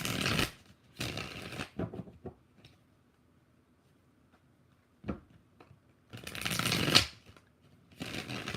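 Tarot cards being shuffled in short riffled bursts, a few quick rustling handfuls separated by pauses with faint clicks, close and fairly quiet.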